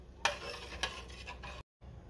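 A spoon stirs chicken curry with chicken masala in a pot, giving soft scraping strokes with a couple of sharper clinks against the metal and a faint sizzle beneath, close and quiet, briefly cutting out.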